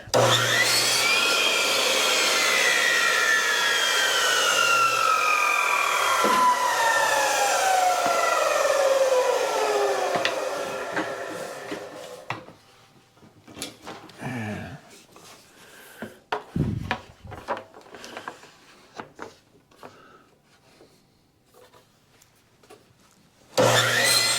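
A miter saw cuts a frame piece: a loud, sustained whining cut with a falling motor tone for about twelve seconds, then quieter workshop knocks and handling noises.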